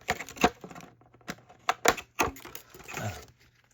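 Scissors snip through the plastic ties and packaging of a Disney Spin & Reveal Elsa and Ariel doll box, a few sharp, close cuts and clicks with crinkling plastic toward the end.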